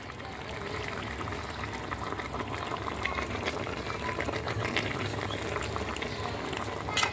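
Beef korma, made without oil or spices, bubbles steadily in a pot as it is stirred. A continuous, fairly loud boiling burble carries on throughout the clip.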